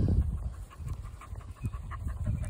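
A dog panting rapidly and steadily close by, quick rhythmic breaths with faint outdoor background noise.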